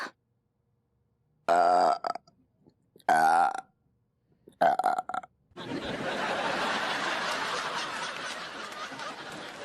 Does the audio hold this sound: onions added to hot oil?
no